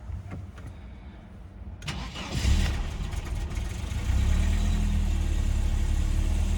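Mercedes W124 with automatic gearbox and a newly replaced ignition switch: a short starter whir, then the engine catches with a rising rev and drops into a loud, steady idle, heard up close.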